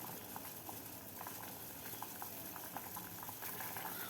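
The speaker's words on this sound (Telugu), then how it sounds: "ఒక నిమిషం ఉడకబెట్టుకుందాం" Food bubbling and boiling in an uncovered pot on a kitchen stove, a steady rolling simmer with scattered small pops and bursts, moderately close and fairly quiet, with no voices.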